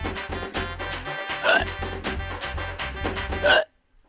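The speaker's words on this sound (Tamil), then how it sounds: "நேத்துல இருந்து அப்பாவோட விக்கல் நின்ன பாடே இல்லையேன்னு" In a Tamil comedy film scene, a man hiccups twice, about two seconds apart. The sharp hiccups sit over loud, continuous background music that cuts off abruptly near the end.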